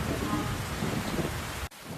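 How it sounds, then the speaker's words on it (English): Heavy thunderstorm with dense, steady rain and rumbling thunder, loud and continuous before cutting off abruptly near the end. "Thunder boomed and rain fell."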